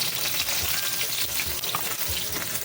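Garlic and onion sauté in a pan for fish and squid adobo, a dense, hissing sizzle that stays fairly loud and constant with light stirring bumps.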